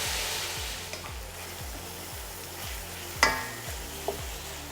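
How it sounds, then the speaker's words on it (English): Onions and bacon sweat in a pot, a low sizzle broken by regular scrapes of a spoon stirring roughly every half second, with one sharper knock of utensil against the pot near the end. "And stir that through. Just sweat it out a little bit."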